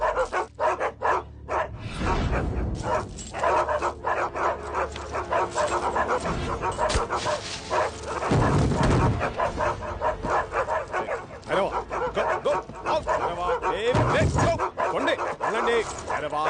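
A dog barks and yips repeatedly in a house as a newcomer arrives, with sharp, loud bursts and a few whimpers over voices and a continuous background.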